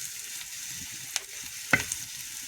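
Chopped onion fries in a pan until reddish, giving a steady, soft sizzle with a couple of brief stirring clinks and scrapes; no one speaks.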